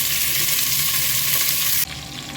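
Pork cheek pieces frying in a pan give a loud, steady, close sizzle that abruptly softens near the end.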